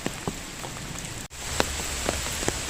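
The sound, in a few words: heavy rain falling by a lake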